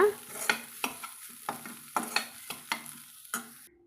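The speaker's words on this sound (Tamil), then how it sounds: "இப்போ கலந்து விட்டுட்டு நம்ம ஸ்டவ் ஆஃப் பண்ணிக்கலாங்க" A spoon stirs an ivy gourd flower and tender gourd stir-fry in a pan, making about ten sharp, rhythmic scrapes and clanks over a soft sizzle, close up with no voices.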